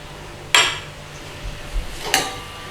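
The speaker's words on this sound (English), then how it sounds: "Give that a stirring in." Two sharp metallic clinks of a spoon against a pan while coriander is stirred into a chicken tikka bhuna curry, spaced about a second and a half apart over a quiet background.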